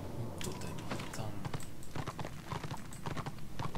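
Horse hooves clip-clop in a steady, rapid rhythm in the Warhammer Online video game, mountain terrain underfoot, the dense clattering hoofbeats close and continuous throughout, with faint keyboard-like clicks mixed in.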